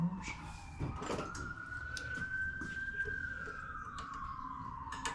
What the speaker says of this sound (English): Beautiful morning ruined by the police sirens.